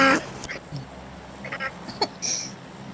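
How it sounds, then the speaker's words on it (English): A goose in a multiplayer shooter video game gives a few short, scattered honks and quacks amid game noise, with brief bursts of other sounds. "Is that a goose?"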